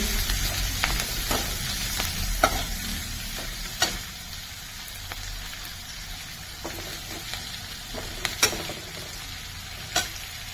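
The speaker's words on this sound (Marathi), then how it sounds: "आता ही फोडणी छान तडतडली की त्यात आपण आपण आता कांदा घालणार आहोत काही कांदा घालून घेतलेला आहे कांदा छान गुलाबी रंगावर परतायचा आहे" Onion sautés in a hot tempering of cumin, mustard seeds and asafoetida, with a close, continuous sizzle broken by sharp spoon clacks against the pan.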